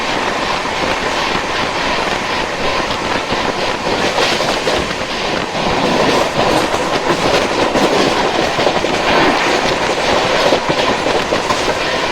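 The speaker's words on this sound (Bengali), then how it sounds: "ট্রেন একদম দুরন্ত গতিতে ছুটে চলেছে" Passenger train running at full speed past Durgapur, heard from inside a carriage as a loud, steady rumble with rhythmic clickety-clack of wheels on track, no talk.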